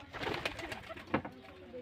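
Pigeons coo softly and fairly far off in a quiet outdoor spot, a few low throaty calls over faint background noise.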